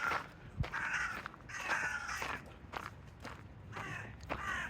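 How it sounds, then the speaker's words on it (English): Crows caw repeatedly in a botanical garden at Shaldon, loud and fairly close, in several harsh bursts over light background noise, with faint footsteps. "Birds going mental."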